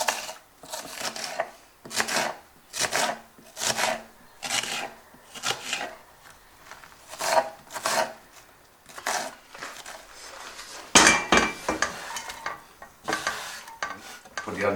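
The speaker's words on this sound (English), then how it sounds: "So you just want to roughly chop your onion." A knife roughly chops an onion on a board in a home kitchen, producing a steady run of crisp, evenly spaced cuts with short pauses between, close and fairly quiet.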